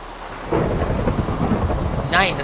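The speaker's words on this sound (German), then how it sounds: "das ist sogar Gewitter" Thunder rumbles through a rainy Minecraft thunderstorm, a steady low roar of rain and storm noise filling the clip, with a brighter crackling burst near the end.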